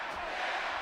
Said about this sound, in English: And the crowd loving every moment of it.